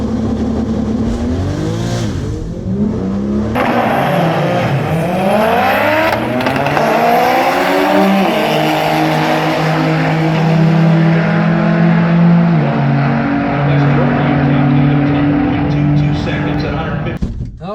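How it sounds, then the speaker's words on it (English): An import drag car does a burnout at a drag racing qualifier in Las Vegas, its engine revving hard in rising, wavering sweeps with tire squeal and rumble over a long, loud, sustained stretch. "Massive fucking burnout."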